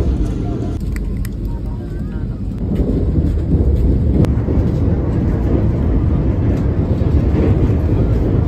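A steady low rumble and rattle of a passenger train running on rails between Vijayawada and Chennai, loud and continuous, growing slightly heavier partway through.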